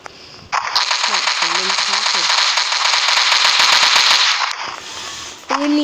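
Sustained rapid automatic gunfire rattles for several seconds in the video game Special OPS, loud and dense, with brief tonal game sounds underneath and a short pause before more shots.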